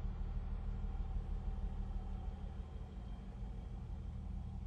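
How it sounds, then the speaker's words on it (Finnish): A car engine runs steadily after being started, a low, even rumble close by with a faint mid-pitched hum above it and no voices. "Tuolta se auto kuuluis kuulostaa"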